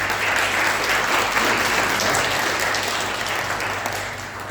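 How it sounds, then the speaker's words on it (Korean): A church congregation applauds to welcome visiting guests during a Sunday worship service, a dense, steady wash of many hands clapping that holds loud throughout and eases off slightly toward the end, with no talking over it. "박수로 환영하겠습니다."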